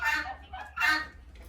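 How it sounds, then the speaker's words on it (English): A rooster on a farm gives two loud crowing calls, close by, each around half a second, with a short honking note between them against quiet farmyard background. "here comes a rooster up behind"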